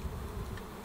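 Bees buzz over a beehive frame during spring hive work, a steady close swarm hum filling the short moment without any voices.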